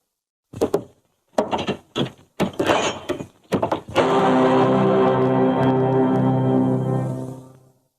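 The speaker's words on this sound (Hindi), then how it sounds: "खोल दो दरवाजा।" An old wooden door in a house, heard as several loud knocks and rattling thumps, then a long creaking, groaning swing as it is pulled open.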